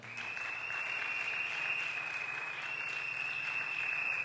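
A church congregation claps steadily at a wedding blessing, dense sustained applause that fills the room from start to finish with no break and no voices over it.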